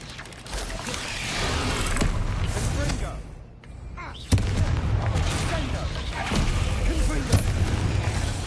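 Confringo explosive spell blasts in Hogwarts Legacy, fiery booms and crackling impacts mixed into dense combat noise, with one sharp loud blast after a short quieter gap; a voice talks throughout.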